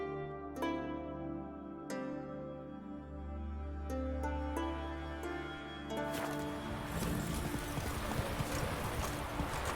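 Horse hooves clip-clop in The Witcher 3, a steady walking rhythm of hoof falls beneath sustained musical tones, shifting into a busier, noisier trot partway through.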